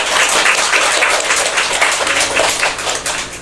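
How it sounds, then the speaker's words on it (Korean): A church congregation at a thirtieth-anniversary thanksgiving service bursts into dense, loud applause, many hands clapping together in a continuous roar that holds steady throughout. "박수 한번 부탁드립니다."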